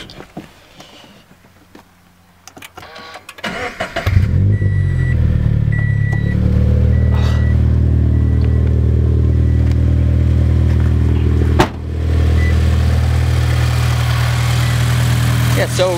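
A turbocharged Subaru BRZ, Scion FR-S or Toyota GT86 with an aftermarket turbo kit: a few clunks and rustles, then the engine cranks and catches and settles into a steady, close, even idle that runs to the end with a brief dip.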